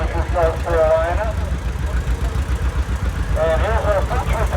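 A John Deere 330 tractor runs at a steady idle in a parade at a Florida flywheelers show, its low engine throb continuous and close while an announcer talks over it.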